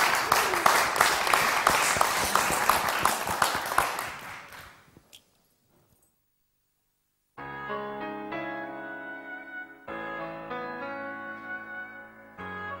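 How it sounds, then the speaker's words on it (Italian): Audience applause at a Sanremo song-ranking programme, a dense roar of clapping for about five seconds that fades out, followed after a pause by music. "Un applauso."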